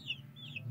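Chickens feeding on papaya leaves give soft, intermittent clucks at close range over a low, steady farmyard rumble.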